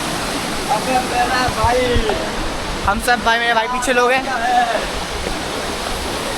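A river or waterfall stream rushing steadily in the Munsiyari mountains, a loud continuous wash under people talking nearby.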